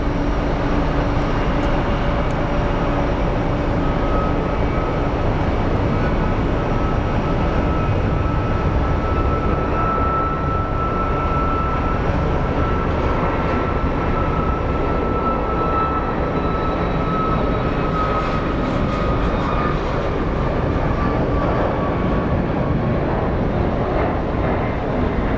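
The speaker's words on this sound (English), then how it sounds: "So the first plane we're going to be looking at is a 737 MAX 8." Boeing 737 MAX 8 airliner at Sky Harbor airport: a steady, loud broadband roar of jet engines with a faint rising whine, continuous throughout with no talk.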